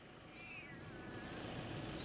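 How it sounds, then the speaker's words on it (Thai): A cat gives a single drawn-out meow, faint and a little distant, over a soft background hum, with no one speaking. "แมวตาใหญ่แล้วนี่"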